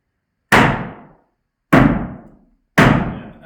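A sledgehammer pounds a wooden beater board laid against floorboards during an old-house floor repair: three loud, heavy, evenly spaced thuds, each ringing briefly before dying away, with silence between and no talking.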